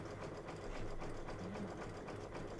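Sewing machine stitching in a sewing and vacuum shop during an Easter quilting panel session, a steady continuous mechanical whir running throughout at moderate level.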